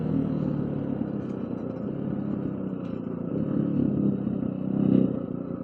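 A 250cc street-legal dirt bike engine, still being broken in, hums steadily cruising in third gear, a low continuous drone with a slight swell in loudness near the end.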